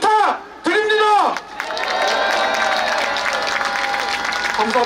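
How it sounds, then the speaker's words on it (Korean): Crowd applause in solidarity with workers at a Korean rally, coming after a loud amplified voice and building into sustained clapping with cheers and crowd babble mixed in. "싸우고 있는 노동자들을 위해 힘찬 연대의 박수"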